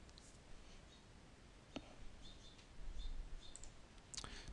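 A computer mouse clicks sharply a few times at irregular intervals, faint and close against a quiet room background.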